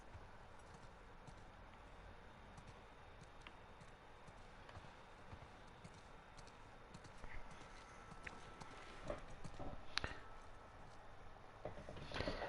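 Horse hooves clip-clop in The Last of Us Part 2, a steady trotting patter that stays quiet under faint ambient game sound and grows slightly more distinct near the end.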